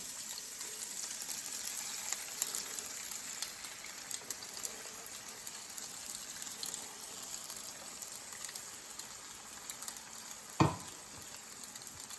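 Alfredo sauce poured into a hot pan of chicken with pesto and sun-dried tomatoes, giving a steady low sizzle and frying crackle throughout, with one brief sharp clatter near the end.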